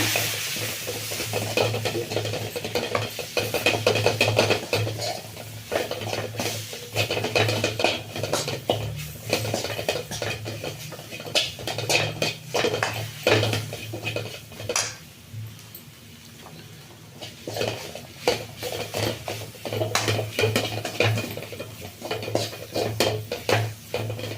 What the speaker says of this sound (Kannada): ಒಂದೆರಡು ಸ್ಪೂನ್ ಕಡಲೆ ಹಿಟ್ಟು ಈಗ ಇದನ್ನು ಫ್ರೈ ಮಾಡ್ಕೊಳ್ಳೋಣ